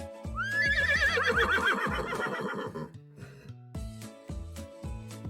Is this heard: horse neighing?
yes